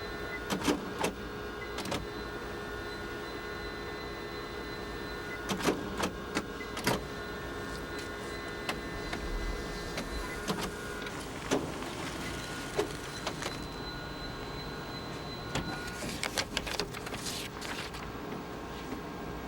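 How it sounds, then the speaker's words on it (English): An Apple Color LaserWriter 12/600 laser printer runs through its startup pages, with a steady mechanical whir, tonal motor hums and repeated sharp clicks and clunks of paper feeding, moderately quiet and with no voices. "every time you restart the printer, it automatically prints startup and demonstration pages"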